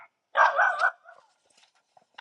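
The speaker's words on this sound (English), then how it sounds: "Sorry about the barking" A puppy gives one loud, sustained yelping bark up close, followed by a few fainter whimpers and small yips in an otherwise quiet room.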